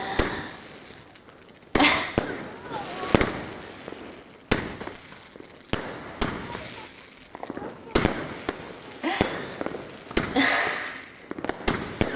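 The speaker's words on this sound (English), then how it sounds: "There's fireworks everywhere and they're so popular for New Year's Eve." Fireworks and firecrackers burst on New Year's Eve in Germany, a dense series of sharp bangs and pops, some near and loud, others distant, crackling irregularly over an ongoing background hiss, with voices present.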